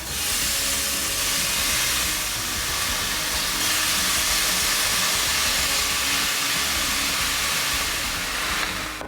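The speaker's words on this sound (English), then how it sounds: "go ahead and add your bacon to the pan as well." Bacon frying in a pan for a carnivore breakfast sandwich, giving a steady, loud, broadband sizzle that runs unbroken throughout with no talking.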